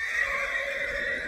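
A stallion at a horse market gives a loud, sustained neigh with a steady, strained tone that fills the whole moment, close to the listener and with no voices.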